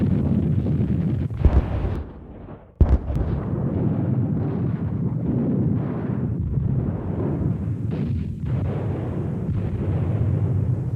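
Heavy bombing of a World War II abbey, rendered as a continuous roaring rumble with sharp blasts and bursts breaking through, loud and sustained throughout.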